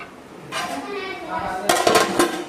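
A metal lid clanks onto a cooking pot of vegetable biryani, several ringing clinks and rattles of metal cookware, close and fairly loud, with brief faint speech.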